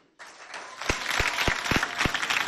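A school audience bursts into applause for a high school team at a quiz contest, starting abruptly then building into dense clapping with a few sharp close claps and some cheering mixed in.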